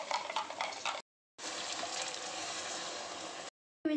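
Ground horse gram paste is stirred into sautéed onions in a pan for sambar, a close, wet scraping and squelching stir with faint sizzle, running in two bursts separated by a short silence.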